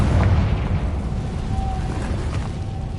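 A Confringo spell blast in the Hogwarts Legacy video game: a deep, rumbling explosive boom with a sustained low roar throughout, fairly loud and close, with no talk over it.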